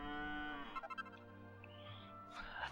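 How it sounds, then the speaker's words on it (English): A cow moos once in Dragon Quest VIII, a long, steady, drawn-out call that fills nearly the whole moment, with a few soft game chimes layered in. "And there's a cow here."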